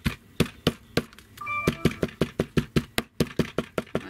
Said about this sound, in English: So I'm pounding down that center,